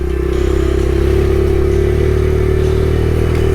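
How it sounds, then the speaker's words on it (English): Honda XR70 dirt bike ploughing through snow, its small engine loud and close with a constant buzzing drone and slight revving, with no voices. "Carving through and switch it. XR70 snow plowing."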